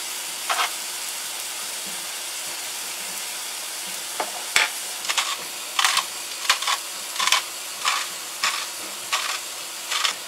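Ground beef browning in a pan after a dusting of chili powder, salt and pepper, with a steady low sizzle and a run of short, distinct scraping stirs in the second half.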